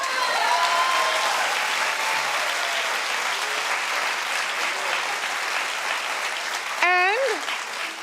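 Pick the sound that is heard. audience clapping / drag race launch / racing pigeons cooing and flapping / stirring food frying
audience clapping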